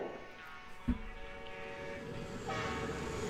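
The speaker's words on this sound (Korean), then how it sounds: "자 기차가 오고 있는데요" A train approaches in an Overwatch animated short, a rumbling rail sound with a sharp clank near the start and rising rush toward the end, fairly close and steady.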